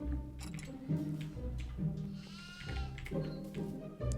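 Repeated bleating from several goats in the game Devour, in a rough rhythm, close and fairly loud, over a music-like game background.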